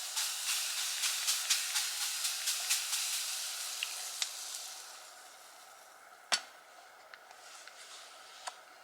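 Eggs fry in oil in a pan at an outdoor bushcraft camp, a bright hissing sizzle with a quick series of crackling pops early on that fades to a softer hiss, broken by a few sharp clicks.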